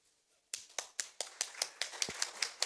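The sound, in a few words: church congregation clapping as an offering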